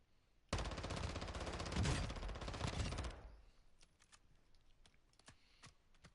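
Rapid SMG fire in Call of Duty DMZ rattles in a dense, loud burst for about two and a half seconds, then cuts off, leaving faint scattered clicks and light taps from aim toggling.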